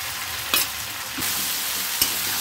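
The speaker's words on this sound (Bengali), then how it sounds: "চিংড়ি মাছগুলো আমি ভেজে রেখেছিলাম, দিয়ে দিচ্ছি।" Fried prawns, peeled and seasoned with salt and turmeric, go into a hot pan with chilli and ginger paste for a taro and potato curry; a steady sizzle carries brief stirring clatters and a couple of sharp knocks.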